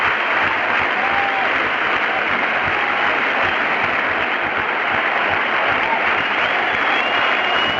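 Fans at a 1979 Orioles–Yankees baseball game give a sustained standing ovation in tribute to Thurman Munson, a loud, unbroken roar of stadium-wide clapping and crowd noise that never lets up.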